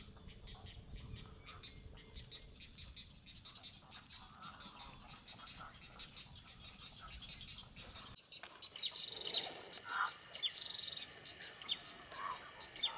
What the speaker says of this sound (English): Various types of medium to large-sized birds that live in mangrove forests, such as egrets, herons, and storks, like the same food.